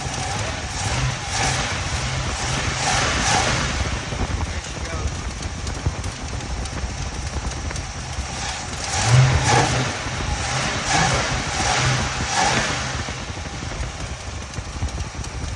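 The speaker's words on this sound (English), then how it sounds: "I can hear a little header leak on the driver's side somewhere." A 1977 El Camino engine running with a small header leak on the driver's side, a steady loud idle with a rapid ticking pulse and occasional slight revs, with voices faintly mixed in.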